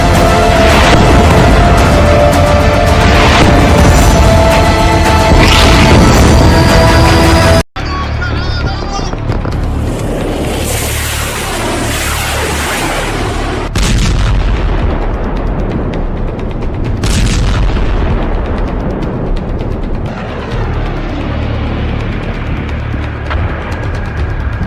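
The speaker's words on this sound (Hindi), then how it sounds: "तेल टैंकर में धमाका" Explosion on an oil tanker at sea, a heavy roaring blast rumble that runs on loud and sustained after a sharp cut, with a few further crackling bursts as it slowly fades.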